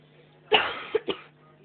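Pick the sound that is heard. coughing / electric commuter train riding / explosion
coughing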